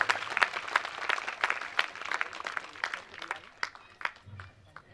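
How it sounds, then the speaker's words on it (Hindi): A crowd at a 51-kund yajna ceremony in Jhangatola, Mandla, claps loudly in dense, rapid, overlapping hand claps that thin out toward the end. "जोरदार ताली"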